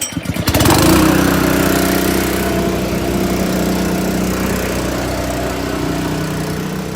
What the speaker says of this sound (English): So this is my gas roof pump